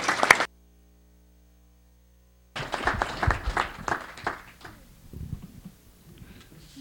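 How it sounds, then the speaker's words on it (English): Conference audience applauding at a closing session, a short burst of clapping, then silence, then a renewed round of scattered clapping that fades toward the end. "I just want to have another round of applause for the hard work that INEGI has been done"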